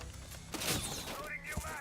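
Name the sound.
frag grenade being thrown in Rainbow Six Siege video game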